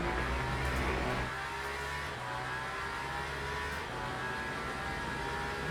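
Le Mans Ultimate hypercar engine at Imola, a steady, full engine drone that holds loud throughout with a brief shift in pitch early on, no voice heard.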